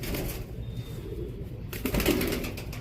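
Pigeons coo softly at a loft of border line racing pigeons in Jammu, low murmuring calls under a rustle of background noise, with a brief flutter of wings toward the end.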